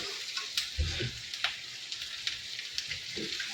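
Onions sizzling in hot oil in a pan while being stirred for chilli chicken, a steady soft crackle with occasional scrapes and clicks of the spoon, close and moderately quiet.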